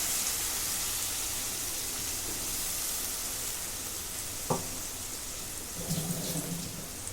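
Ginger-garlic paste sautés in a hot pan with a steady, close sizzle, and a couple of brief utensil taps near the end.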